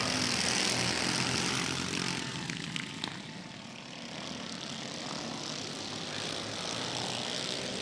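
Racing karts at Exit 7 Motorsports Park roar past down the back straightaway, a loud sustained engine drone that swells and eases slightly as the pack goes by.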